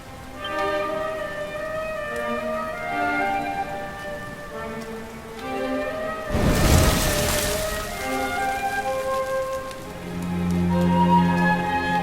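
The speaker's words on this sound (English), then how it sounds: "Looks like the rain's dying down." Steady rain falls in the video game Dragon Quest XI, a constant hiss under soft music with a brief louder burst midway, and no talking.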